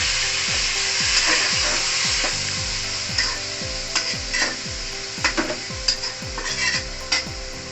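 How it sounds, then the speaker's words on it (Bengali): Meat is stirred with crisp fried onions in a pot for Bangladeshi haleem. A steady sizzle runs under repeated rhythmic scraping strokes of a spoon against the pan, with clinks near the end. "তো আমরা আমাদের মাংসটি বেরেস্তার সাথে মিক্স করছি।"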